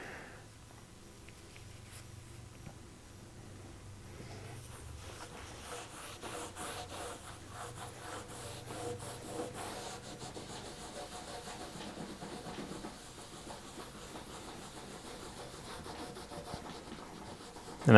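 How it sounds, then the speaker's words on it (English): Wood filler pressed and rubbed across the grain of a wooden kitchen table tabletop, a soft, continuous scraping and rubbing close by, steady in level with a brief louder knock at the end. "And I'm rubbing, again, across the grain, and I'm pressing into it to make sure that it fills the grain up."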